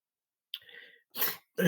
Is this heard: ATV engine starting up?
no